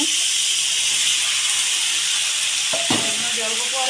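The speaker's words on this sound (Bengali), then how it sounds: "ভালো করে আলু দিয়া শুকা মাছ দিয়ে ভাইজা নিচ্ছি" Potatoes and dried fish fry in a hot pan with a steady, close sizzling hiss throughout, broken near the end by a couple of brief scraping stirs.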